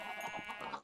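A single sheep bleats in the video game Minecraft, a short, quiet, wavering call heard alone with no talk over it.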